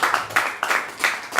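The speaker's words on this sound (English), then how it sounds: "Can we clap for him," A small group claps for a trainee in a training session, giving a short burst of several sharp, close claps in an uneven rhythm.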